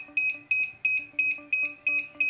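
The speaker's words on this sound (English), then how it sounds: "you will start hearing this beeping sound from the remote" A DJI Smart Controller for a drone beeps a steady electronic alarm in quick pairs, repeating rhythmically about every third of a second, close and clear with no other sounds.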